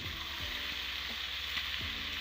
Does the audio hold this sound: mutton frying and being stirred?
yes